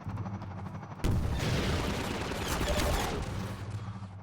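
Gunship machine-gun fire in Half-Life 2, a loud sustained burst of rapid dense shots lasting about two seconds, preceded and followed by quieter game background.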